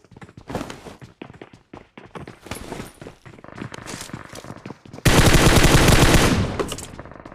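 Bursts of M4 rifle fire in a competitive shooter video game: scattered shots and short volleys early on, then a loud sustained automatic burst near the end, up close.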